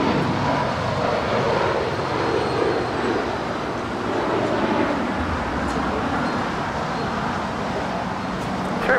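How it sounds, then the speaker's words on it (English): A Gulfstream jet departs Los Angeles airport with a steady, broad engine roar that holds loud and even throughout, with no clear voices over it. "That Gulfstream is departing to Santa Ana."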